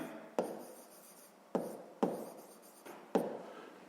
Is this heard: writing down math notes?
yes